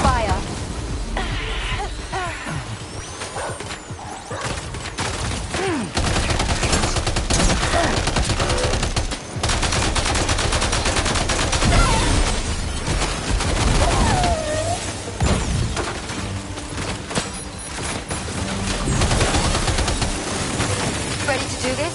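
Heavy gunfire in the video game Death Stranding 2, with dense bursts and booming shots running almost the whole time, loud and close, while voices talk over parts of it.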